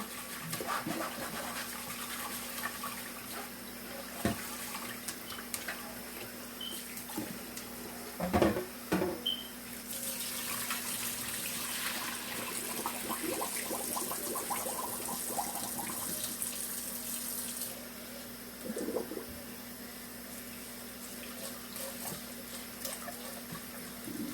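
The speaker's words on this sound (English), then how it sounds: "you're supposed to wash it or rinse it, whatever you want to say or call it, until the water runs clear" Tap water runs steadily throughout as rice is rinsed until the water runs clear, with occasional clinks and knocks from handling things in a sink nearby, and no talking.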